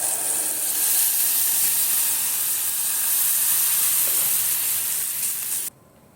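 Tomatoes hitting a hot frying pan set off a loud, close, continuous sizzle and hiss that holds steady for several seconds, then stops abruptly near the end.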